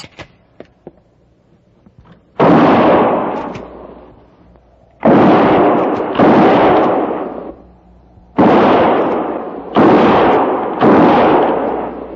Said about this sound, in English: And no more than 3 rounds each. Fire between the trees.